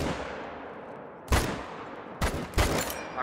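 Gunfire while hunting in a video game: a few sharp, loud shots, one then a quick pair, cutting through a quieter background hiss.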